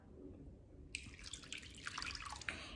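Water poured into sourdough starter in a bowl, a faint trickling splash with scattered drips that begins after a quiet moment and carries on softly to the end.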